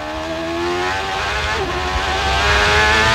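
Onboard CART Indy race car at the 2000 Molson Indy street race in Toronto, engine screaming steadily and loud as it accelerates onto the backstretch, pitch rising with a brief dip partway through.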